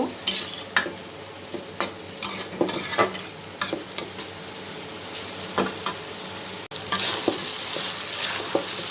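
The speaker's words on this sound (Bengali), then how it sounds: "কচুটাকে ভালো করে কষিয়ে তারপরে ঝোলটা দিব" Chunks of kochu taro root being stirred and sautéed in hot oil, a steady frying sizzle broken by repeated scraping stirs of a spatula against the pan, close and fairly loud, with no talking.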